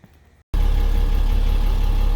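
A truck engine drones steadily while driving down the road, a loud, continuous low rumble that starts abruptly after a brief quiet moment.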